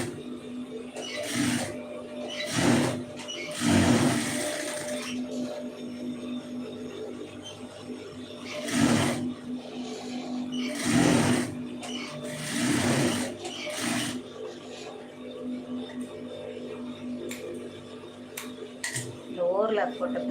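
A domestic sewing machine runs in repeated bursts of rapid stitching, sewing a neckline design with white thread over overlocked fabric edges, with brief pauses between runs and some light clinks of handling nearby.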